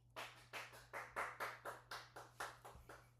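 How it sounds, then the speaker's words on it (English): Portia claps her hands about a dozen times in a steady, even rhythm. The claps are soft and close, over a faint low hum, with no talking. "She clapped for you guys."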